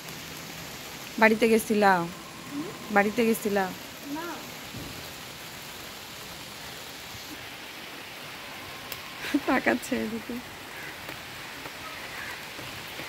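Steady rain hisses evenly throughout, a broad wash of falling water with a few short bursts of people talking over it.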